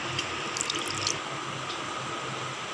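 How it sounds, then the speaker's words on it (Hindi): Water runs and splashes as fresh chhena is rinsed for rasgulla, a steady tap-like flow with a few brief bright drips and sloshes near the start, close by and with no talk. "अब इस छेना को हम धीरे धीरे नॉर्मल पानी से वॉश कर लेंगे"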